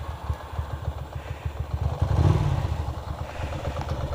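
A Ducati Monster motorcycle with twin mufflers rumbles at idle nearby, a steady throbbing low engine pulse with a brief swell of revs midway and some mechanical clatter.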